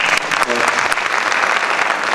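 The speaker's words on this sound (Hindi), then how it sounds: "स्वागत में बार ताली बजा दीजिए।" An audience at a Hindi poetry gathering (kavi sammelan) claps loudly to welcome a poet named Chaturvedi. The dense, continuous applause fills the hall, with a voice briefly audible near the start.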